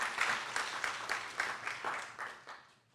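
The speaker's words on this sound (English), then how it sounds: "Let's give Director McGlown a round of applause." Scattered audience applause at a graduation ceremony, a modest crowd clapping in uneven bursts that gradually fade out near the end.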